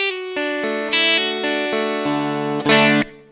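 An electric guitar plays through the natural concert hall reverb setting of a ZOOM MS-80IR+ amp simulator, sustained notes and chords ringing out one after another with a lingering spacious tail.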